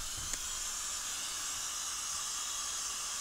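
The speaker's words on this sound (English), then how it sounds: "Ah, spray!" A steady, continuous bug spray aerosol hiss sprays at a huge spider without pause for several seconds, bright and close, after a brief thump at the start.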